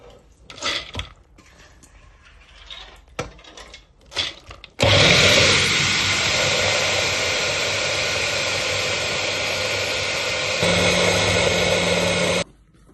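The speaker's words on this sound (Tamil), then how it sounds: "இதை எடுத்து நாங்கள் இப்போ மிக்சியில் போட்டு அடிக்க போகிறோம்" A mixer grinder grinds soaked urad dal for keerai vadai, a loud steady whir that starts abruptly, holds for about eight seconds with a slight pitch change near the end, then cuts off, after quieter kitchen clatter.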